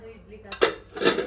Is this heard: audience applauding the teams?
no